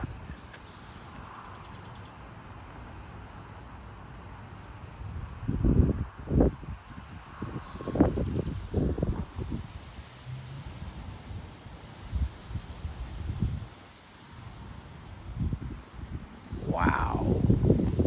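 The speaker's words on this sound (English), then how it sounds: "There goes a gust right there." Gusts of wind blow outdoors on a hot day in Frisco, Texas, buffeting and rustling in irregular bursts that swell and fade, with a strong burst near the end.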